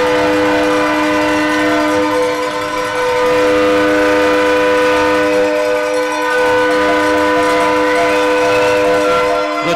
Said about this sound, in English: The train whistle sounds,